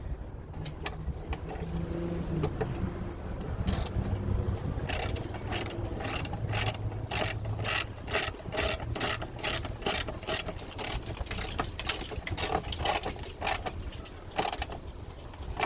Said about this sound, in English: put the bolts back onto this thing